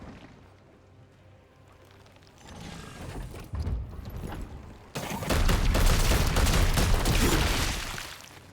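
Gunfire in Warhammer 40,000: Chaos Gate - Daemonhunters, starting with quieter mechanical clanks and a few shots, then erupting into a loud, sustained fusillade of heavy rapid fire.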